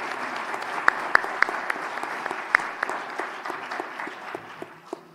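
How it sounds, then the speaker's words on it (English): An audience at a medical conference claps for a professor, a moderate round of applause with a few sharp, louder claps standing out near the front. "Can we get another round of applause for Professor Thivolet?"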